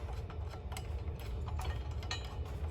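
Socket wrench ratcheting on a crash bar mount of a Yamaha Tenere 700 motorcycle, a quiet close clicking over a low steady hum.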